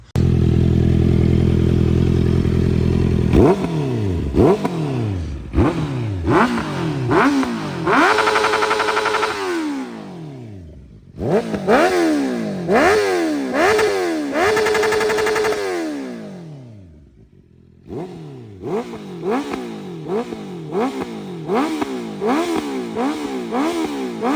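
A Honda CB650R motorcycle with an aftermarket MIVV exhaust revs repeatedly with a loud, throaty note, rising and falling in sharp bursts with brief pauses between rounds of throttle blips.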